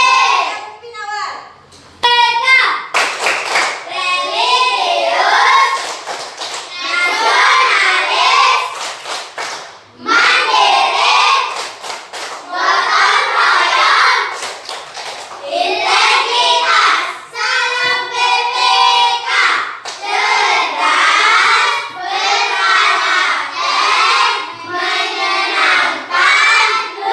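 Children doing rhythmic classroom clapping chants, bursts of unison clapping in patterned rhythms alternating with kids' chanted voices, loud and close, repeated through the stretch.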